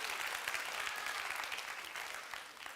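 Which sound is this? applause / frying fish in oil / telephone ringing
applause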